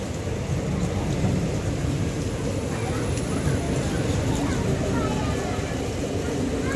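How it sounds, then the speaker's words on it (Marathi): Heavy monsoon rain pours down beside the Konkan Railway line on the Diva–Ratnagiri passenger route, a dense, unbroken roar of rain from start to finish with faint voices mixed in. "पाऊस देखील आता भरपूर आहे"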